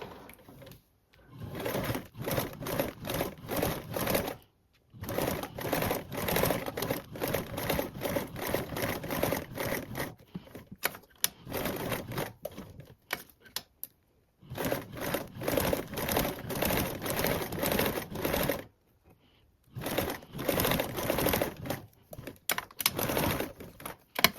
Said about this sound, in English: Now we'll go ahead and top stitch along the shorter of the piece with a 1/8 seam allowance.